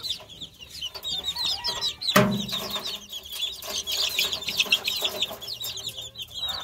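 Chickens cluck in a continuous busy chorus at moderate distance, with a sudden sharp knock or wing flap near the middle.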